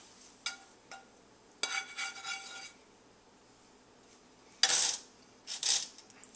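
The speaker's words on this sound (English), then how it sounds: "I just dump them, the eggs, in the bowl on top of the grits here" Scrambled eggs scraped from a pan into a bowl of grits, heard as a few sharp metallic utensil clinks and scrapes against cookware in bursts separated by quiet pauses, close and alone.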